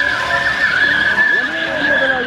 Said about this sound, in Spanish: Eso que oís son los derrapes, ¿vale? De un coche que sí, hay derrapando